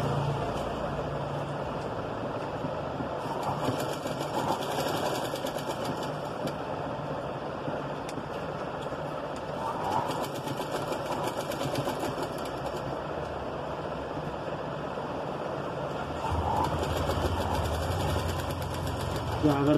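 A sewing machine stitching piping onto a prince-cut, boat-neck blouse runs steadily close by, its even mechanical whir continuing throughout with slight swells in loudness.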